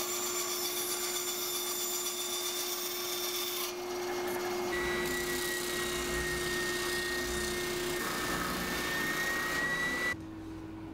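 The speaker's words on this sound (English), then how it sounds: "I draw lines down on both pieces, and then I can get those cut along on the bandsaw." A bandsaw cuts lengthwise through wooden pieces for a hedgehog house, a steady motor whine with continuous rasping blade noise, changing tone slightly as each cut progresses, close and fairly loud throughout.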